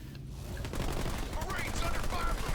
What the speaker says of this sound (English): Meanwhile, Bruham, Our base is under like, attack.